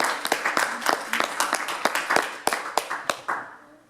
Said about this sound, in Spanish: ¿Cuánto le dan un aplauso fuerte al Señor?